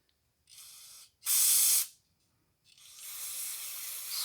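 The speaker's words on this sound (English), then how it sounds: "Gotta spray out the hole with some brake clean." Brake cleaner hisses from an aerosol can into a bolt hole on a 1984 Dodge D150 truck, in three close bursts: a short spray, a louder strong blast, then a longer steady spray after a brief pause.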